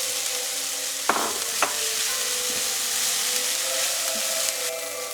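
Onion and dry textured soy frying in a pan as they are stirred, with a continuous sizzle broken by a couple of sharp utensil clacks, no voices.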